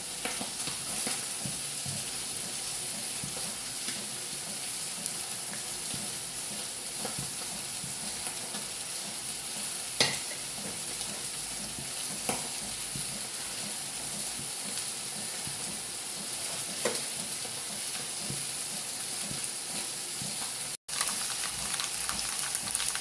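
Mustard seeds spluttering in hot coconut oil in a pan: a constant close sizzle filled with tiny rapid pops, with a few sharper cracks standing out and a momentary dropout near the end.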